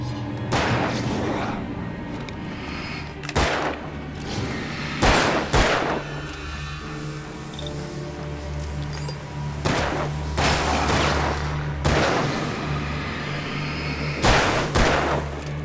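Loud gunshots in Alan Wake in sharp bursts, some in quick pairs, spaced irregularly over a rumbling game soundtrack.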